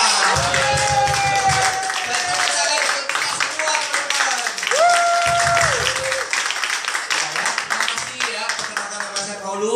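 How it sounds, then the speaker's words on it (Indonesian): Applause for Ibu Citra rises from a seated audience at an Indonesian Prudential agents' meeting, with sustained clapping and cheering that mixes with a speaker's voice and crowd voices. "Penghubungnya aplaus untuk Ibu Citra."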